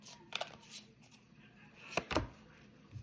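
Tarot cards being shuffled by hand, a few short crisp riffles and snaps, the loudest burst near the end, close and clear with no talking.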